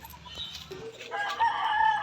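A single rooster crow from a backyard-raised flock, rising and holding for about two seconds, loud and close.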